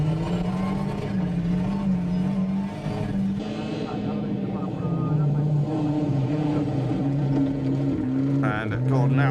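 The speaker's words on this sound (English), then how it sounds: "Gordon Smith then with his venerable Escort" Onboard a veteran Ford Escort rally car on a forest stage, the engine drones loud and close, its pitch rising and falling through gear changes, with a commentator talking over it.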